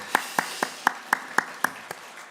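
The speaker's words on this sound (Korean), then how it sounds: "박수 한번 해주시죠" A church congregation at an early-morning special prayer service gives a slow round of applause, about nine distinct, evenly spaced claps, fairly soft and alone.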